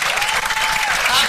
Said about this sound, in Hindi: वैसे अनु जी के लिए एक बार जोरदार ताली बजा दीजिए।